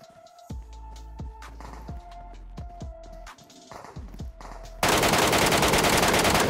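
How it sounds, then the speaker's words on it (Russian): Gunfire in the mobile battle royale game PUBG Mobile (Metro Royale mode), with separate sharp shots in a steady rhythm followed by a loud, dense burst of rapid automatic fire at the end, heard alone. "он тут же выстрелил, чтобы убить меня"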